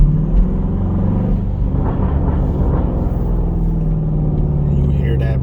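A Dodge Durango SRT 392 V8, driven at night in manual gear mode, holds a steady, loud low engine drone close by, with a few brief crackling bursts from the exhaust mid-clip and a voice faintly underneath.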